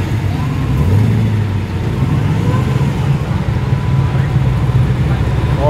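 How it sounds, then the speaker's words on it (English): Supercharged Holden VK muscle car engine rumbling and revving at a crowded car meet in a Sydney park, loud and close, with a steady low engine drone, crowd voices talking over it, and other traffic noise around. "I think it's that VK that sounds. It's got a bit of a supercharger under the bonnet."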